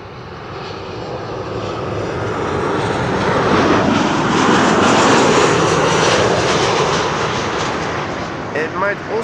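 A passing aircraft, likely a 737 or business jet on approach to runway 04, roars steadily louder and then fades as it goes by, with a faint voice near the end.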